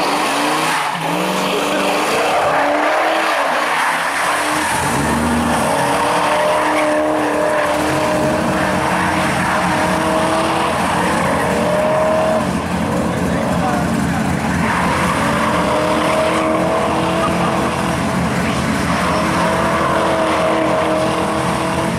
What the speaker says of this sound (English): As he does burnout.